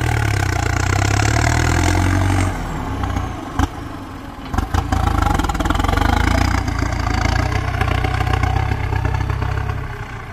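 A Ford 6640 tractor engine runs steadily and loud up close, its deep low rumble held throughout while pulling out a tree stump, with a few brief clattering knocks midway.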